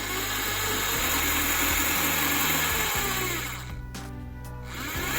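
Small battery-powered DC motor spinning a test wheel on a tachogenerator bench rig, a close, high whine that steps in pitch several times as the speed changes, briefly dropping before spinning back up.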